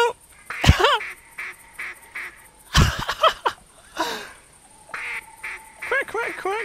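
Quacks in a duck hunting video game, several bursts over a constant electronic tone, with a voice that seems to imitate duck calls.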